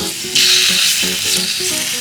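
Pork sizzling on a Thai mukata grill, a steady loud frying hiss with some clinks and stirring underneath, no talk.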